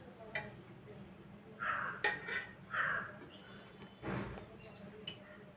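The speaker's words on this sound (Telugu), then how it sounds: "ఆన్ చేసి బాండి పెట్టుకొని ఆయిల్ పోసుకుందాం" A kadai is set on a stove and oil is poured in for mango pulihora, giving several separate metallic clanks and scrapes over a quiet kitchen background.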